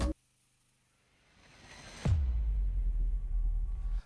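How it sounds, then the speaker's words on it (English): An impact sound effect from an amapiano beat: a brief click, then a rising noise swell that slams into a deep booming hit at about two seconds, its low rumble sustaining loudly before cutting off. "this is basically an impact sound"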